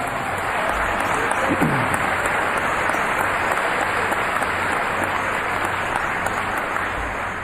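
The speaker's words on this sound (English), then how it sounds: "Yes, please clap for them." A large crowd at the basketball Hall of Fame induction ceremony applauds in a sustained, even wash of clapping that fills the hall throughout.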